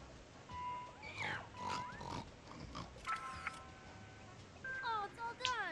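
Pig grunting and oinking in The Last of Us: Left Behind video game, a few short snorts spread through the clip amid sweeping tonal game effects.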